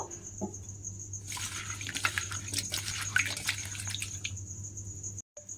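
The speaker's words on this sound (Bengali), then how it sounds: "দেখুন এইভাবে দুবার তিনবার জল পাল্টে পাল্টে কিন্তু আলুর খোসাগুলো প্রথমে খুব ভালোভাবে আমি ধুয়ে নেব" Potato peels are swished and rinsed by hand in a bowl of water, a close run of splashing and sloshing that starts after a brief clink and stops abruptly near the end.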